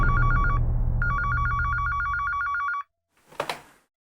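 A telephone rings loudly with an incoming call, two bursts of rapid electronic trilling separated by a short gap, then cuts off before a brief clatter as the receiver is picked up.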